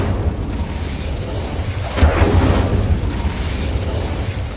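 A fiery blast from the Incendio spell in Hogwarts Legacy erupts midway as a single loud burst over a low, rumbling game background, then trails off into steady ambience.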